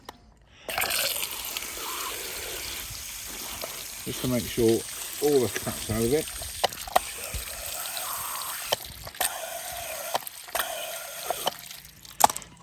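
Water gushes and splashes steadily from a hose pipe flushing out part of a car, with someone talking over it and occasional clunks and knocks.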